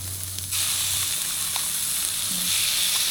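Corned beef with onions frying in a pan, a loud steady sizzle and hiss that swells after the first moment, with a few faint stirring clicks underneath.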